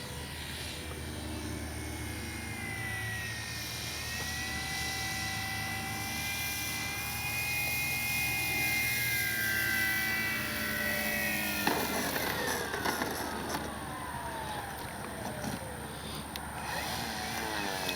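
A FLEX RV-8 60E G2 RC model airplane with an electric motor flies overhead, its steady whining tone rising and falling in pitch as it passes, then sweeping down sharply, loud and continuous with no talk.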